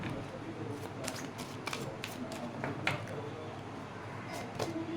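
Tarot cards are shuffled and drawn by hand, giving a series of soft, quick papery riffles and flicks with small clicks scattered over a few seconds, close and fairly quiet.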